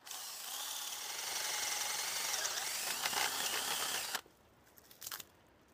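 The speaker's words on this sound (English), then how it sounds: "if you manage to drill your hole correctly" A power drill whines steadily for about four seconds, boring about an inch and a half into a tree trunk to tap sap, then stops abruptly, leaving a couple of faint knocks.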